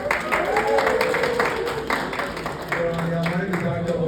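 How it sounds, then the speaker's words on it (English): Town-hall audience at a budget meeting clapping in a dense patter, with a voice talking over it throughout. "Give a round of applause."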